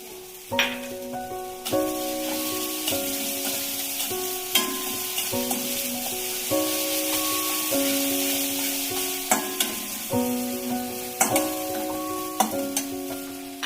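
Sesame seeds and curry leaves sizzle steadily in hot oil while vada pav filling is prepared, with a continuous crackle broken by repeated clinks and taps of a utensil against the pan.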